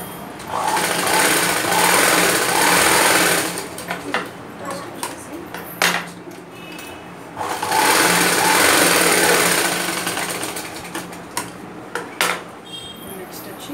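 A sewing machine stitches fabric in two long, loud, steady bursts of rapid mechanical whirring. Between the bursts come quieter handling clicks and taps while someone talks.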